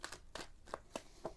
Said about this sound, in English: Sorry, I know I take a long time to shuffle.